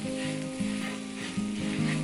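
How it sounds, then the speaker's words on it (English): Chicken bacon ranch pasta sauce sizzles in a pan as it is stirred, with several quick, regular scraping strokes over a constant close frying hiss. "get it stirred in really good here. We want everything well coated."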